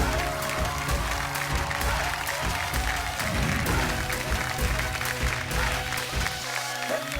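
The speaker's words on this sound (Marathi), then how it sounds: "एकदा जोरदार टाळ्या." A studio audience on a Marathi television game show claps loudly and continuously in celebration of a prize, with the dense applause running throughout over bright background music.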